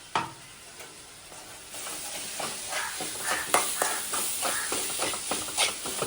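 Cooked chicken stirred in a hot pan with masala, giving a steady sizzle and repeated scraping strokes of a spoon, fairly close and moderately loud with no voices.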